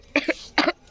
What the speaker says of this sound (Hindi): फिर से खांसी आ गई।